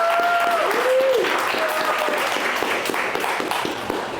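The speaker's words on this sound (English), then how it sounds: "let's just give another huge round of applause for everybody" An audience at a social media business event claps in sustained applause, a dense, loud wash of many hands, tapering slightly toward the end, with a brief whistle-like tone early on.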